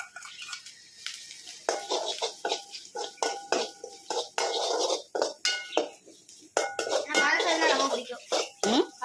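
Food being sautéed with a ladle in a pan outdoors, with repeated scraping and clinking of metal on the pan in irregular bursts, close and moderately loud, under frequent talk including a voice.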